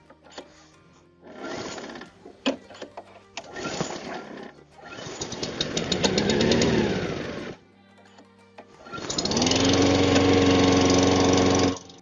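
A Blackstone SP530 self-propelled lawn mower engine is pulled several times, sputtering briefly with each attempt, before it catches and runs with a steady, loud drone near at hand.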